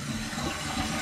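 A toilet flushing after its flapper chain clip was moved down the chain, a steady broadband rush of water that holds even and fairly loud through the whole short stretch.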